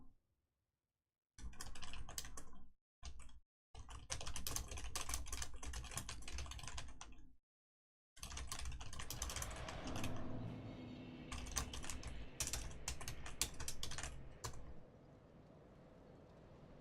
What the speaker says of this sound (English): I was typing to Insecure in chat.